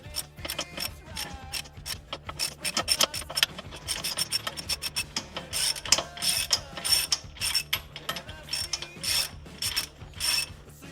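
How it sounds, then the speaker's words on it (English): A ratchet works the axle-side track bar bolt loose on a Jeep-style steering setup, rapid clicking and grinding strokes repeating in uneven bursts, close and fairly loud with no talking. "now we got to remove the axle side track bar bolt"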